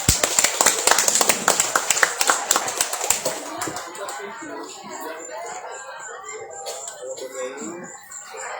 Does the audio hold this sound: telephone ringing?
no